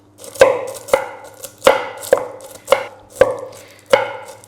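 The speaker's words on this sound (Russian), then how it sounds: "Но так ножом тоже где-то чуть больше, где-то чуть меньше измельчаем." Walnuts chopped with a knife on a cutting board, seven sharp, close chops spaced unevenly about half a second to a second apart, each a crisp knock with brief crunching, with no talk.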